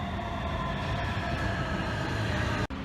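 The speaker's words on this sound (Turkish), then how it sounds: "Arkadaşlar metromuz geldi." A metro train arriving at an underground station on an Istanbul transfer route, a loud, steady rumble of wheels and motors that fills the space, ending in a sudden sharp cutoff, with no talking.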